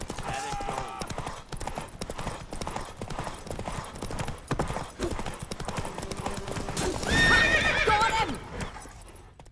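Roach, the horse in The Witcher 3: Wild Hunt, gallops with rapid, steady clip-clop hoofbeats and then gives a loud, close whinny near the end, while someone shouts briefly over the hooves.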